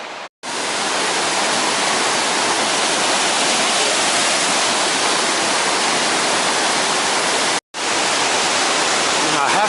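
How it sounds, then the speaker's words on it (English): Mawddach Falls, a waterfall seen through trees, pours in a loud, steady broadband rush heard close by, with two very brief dropouts breaking the continuous roar. "There's the Abbey Mawddach Falls through the trees"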